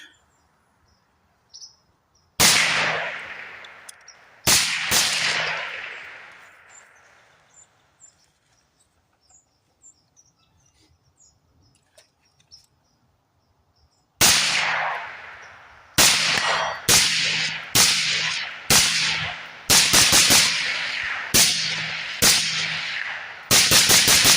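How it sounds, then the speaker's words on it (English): Suppressed rifle shots from 300 Blackout subsonic rounds through a Silencerco Omega 300 suppressor with an anchor brake: two sharp reports, a pause, then a run of about eight evenly spaced shots, each with a short decaying tail, outdoors. "300 blackout subs on the Silencerco Omega 300 with the anchor brake"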